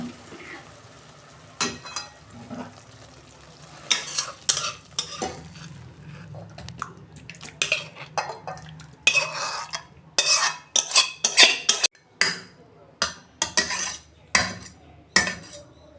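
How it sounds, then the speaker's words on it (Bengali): Cooked pointed gourd with prawns being stirred and scraped out of a pan, giving repeated sharp spoon-on-metal clanks and scrapes in irregular bursts over a soft background sizzle. "পটল চিংড়ি হয়ে গেছে, আমি এবার ঢেলে ফেলছি।"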